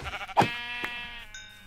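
A single sheep bleat from Minecraft 1.14.4, a short nasal wavering call near and clear, followed by quieter game ambience with no speech.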